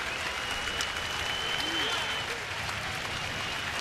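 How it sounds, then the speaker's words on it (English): A large stadium crowd at a Toronto at Chicago baseball game applauds in a steady, dense wash of clapping, with faint voices mixed underneath. "he's going to get a nice round of applause"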